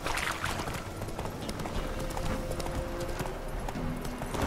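Roach, a horse in The Witcher 3: Wild Hunt, gallops with rapid, rhythmic hoof clip-clops at a fair distance, joined by faint tonal game sounds partway through.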